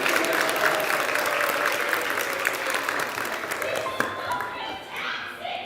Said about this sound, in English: Give a round of applause for our baby Jesus.